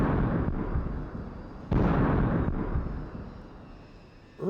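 Heavy guns aboard a steel battleship fire over long range, producing deep booming blasts, one striking report mid-way among rumbling echoes that fade slowly; moderately distant and alone without talk.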